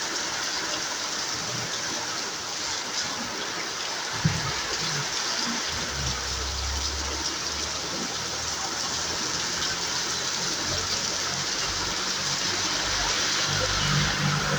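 Heavy rain pours steadily onto a flooded road in Satkhira Sadar, a dense continuous hiss of falling water and splashing runoff, with vehicles faintly rumbling past in the background.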